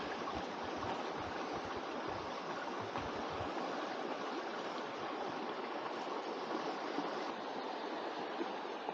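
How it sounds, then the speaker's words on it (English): Tail end of a waterfall on Lake Superior's shore, water streaming through a rock crack into the lake, a soft steady rushing flow heard at moderate distance with no break. "So here's a little bit of the tail end of the waterfall."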